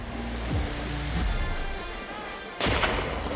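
A rifle fires during a hunt in Africa, sending a loud, sharp blast up close that rolls into a long echoing boom, with an earlier duller thump and a steady wind-like rush filling the background.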